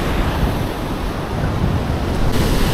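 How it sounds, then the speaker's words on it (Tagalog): Large ocean waves break and surge at sea near a fishing boat in rough, rainy weather, a steady loud roar of surf with wind buffeting the microphone. "Oh, malaki na yung alon."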